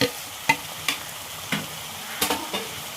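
Coriander, turmeric and chili powders sizzle steadily in a pan with tomatoes and chicken. A spoon scrapes through them in sharp, irregular strokes, up close with no talking.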